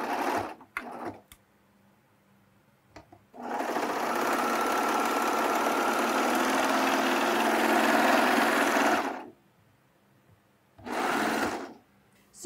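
A serger runs a hem with its blind hem foot: a short burst, a long steady whir of stitching lasting several seconds, then another short burst, all close and loud with no voice.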